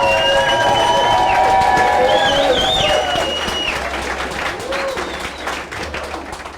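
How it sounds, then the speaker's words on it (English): A small audience of supporters applauds and cheers at a campaign headquarters during a runoff interview with a governor; loud clapping with whistles and high cheers at first, gradually thinning out over the seconds. "I guess you're allowed to, give a round of applause"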